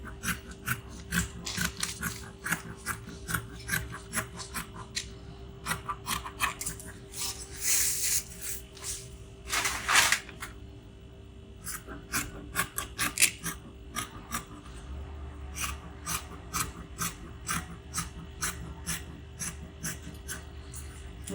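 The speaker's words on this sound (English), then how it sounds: "So when I'm done cutting the body, I'm going to just take out the back and then cut the neckline for the front." Scissors cut through stretchy mesh fabric for a top, giving a long run of quick, crisp snipping and rasping clicks, close and fairly quiet, with a few short pauses between cuts.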